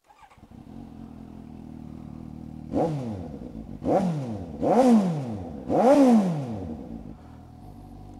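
A motorcycle borrowed from a dealership idles and then is revved four times in quick succession, each rev a sharp rise and fall in engine pitch over the low, steady idle, heard close by.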